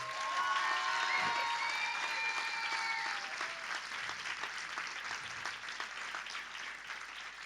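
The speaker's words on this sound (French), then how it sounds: "je pense qu'on peut les applaudir encore une fois" Audience applause at the Renards 2024 award ceremony in France: a full, steady wash of clapping from a crowd, loudest at first and gradually thinning, with a brief musical sting at the start.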